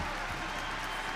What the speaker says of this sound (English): this crowd is hype, dude. They're really loud.